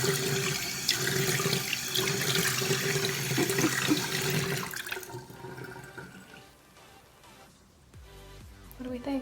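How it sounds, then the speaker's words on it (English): Water runs and splashes into a bathroom sink for several seconds, then cuts off and leaves quieter dripping and handling sounds nearby. "I'm gonna go into my bathroom and put some water on these"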